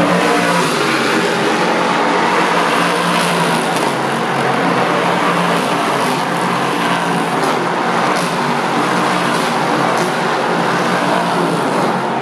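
Race cars speed around the Le Mans circuit at over 280 km/h, a loud continuous engine roar that swells and fades as cars pass, dense and unbroken throughout.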